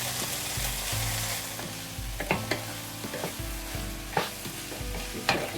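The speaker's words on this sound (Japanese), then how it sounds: "炒めますね" Drained tofu stir-fried in a home kitchen pan, sizzling steadily while a utensil scrapes and clacks against the pan in irregular strokes, close up and with no talking.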